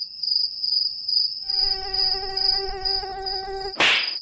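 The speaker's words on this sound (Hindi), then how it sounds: "ससुर मच्छर काट गया।" A whining mosquito buzz hums steadily and close for the whole stretch, outdoors at night where people are sleeping, with a sharp slap-like burst near the end.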